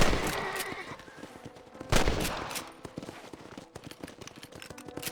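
Rifle shots ring out in a Red Dead Redemption firefight, loud broadband cracks, with one especially heavy blast near the two-second mark, scattered among clattering game action and faint hoofbeats.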